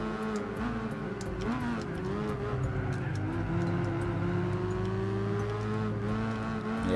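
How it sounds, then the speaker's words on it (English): Mazda RX-8 rotary engine with stage 1 weight reduction, racing in Gran Turismo 4, holding a loud, steady high-rev drone with slight pitch wavers and a gradual rise, close and continuous. "I love the sound of this engine."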